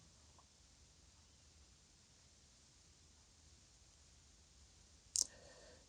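A computer mouse gives a single sharp click near the end, close and distinct against a faint steady hiss.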